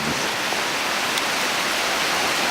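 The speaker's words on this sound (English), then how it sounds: "Downpour." Heavy rain pours down in a dense, even hiss at a job site, a steady loud downpour with no break and no voices.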